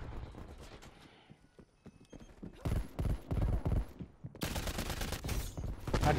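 Shotgun fire rings out in a first-person shooter match on a Hardpoint mode, as loud bursts of rapid shots arrive in clustered volleys over quieter game ambience.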